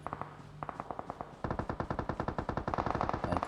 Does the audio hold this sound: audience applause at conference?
no